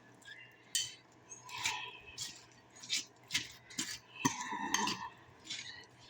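Stirring a Filipino ampalaya (bitter melon) dish in a pan, seasoned with salt, pepper and a little sugar: a run of soft scraping strokes and light metallic clinks in an uneven rhythm, fairly quiet and close.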